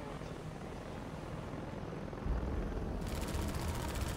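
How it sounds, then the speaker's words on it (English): A helicopter in the video game Half-Life 2 drones as a low, steady rotor rumble at modest volume, joined near the end by a burst of rapid, crackling gunfire. "Come on, helicopter,"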